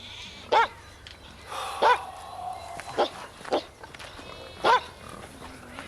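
A dog barks repeatedly in sharp, loud yelps spaced about a second apart, with some quieter whining sounds between barks over a low background hum.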